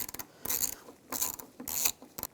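A socket wrench ratchets a bolt on the rear exterior door handle of a 2015-2020 Cadillac Escalade, three close bursts of quick clicking separated by brief pauses.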